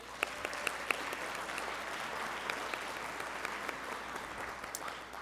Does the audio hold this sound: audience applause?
yes